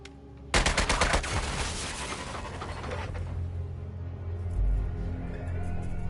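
A sudden loud burst of rapid automatic gunfire erupts in the Suicide Squad: Kill the Justice League video game, a dense rattle of shots that fades into a rumbling, echoing tail with low booms beneath.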